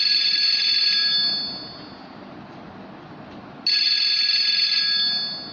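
A landline telephone rings in two long electronic bursts separated by a short quiet pause, clear and fairly close.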